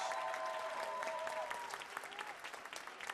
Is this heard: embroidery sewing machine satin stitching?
no